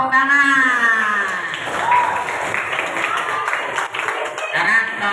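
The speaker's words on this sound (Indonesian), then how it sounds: "tepuk tangan" A class at a fraction-arithmetic lesson claps for a student, with a brief voice rising at the start and the patter of hands mixed among children's chatter in the room.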